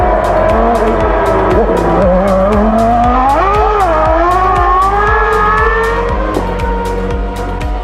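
Formula One race cars from the 1994 season scream past at speed, loud high-revving engines with a steady rhythmic pulse and shifting pitch as cars pass and change gear, continuous without talk.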